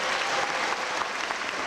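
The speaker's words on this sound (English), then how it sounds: "Let's give them another round of applause." Audience applause for a high school band at a school district D.A.R.E. graduation ceremony, a steady, dense wash of clapping from a large crowd filling the whole moment without pause.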